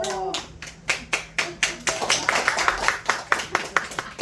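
A church congregation claps in a steady, rhythmic beat of about a dozen distinct hand claps, close and fairly even in pace, with some voices audible underneath.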